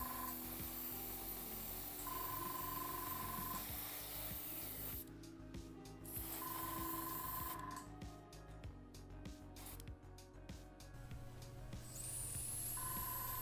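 Hissing bursts from a red spray paint can, several separate sprays starting and stopping, over a steady background tone with intermittent hum.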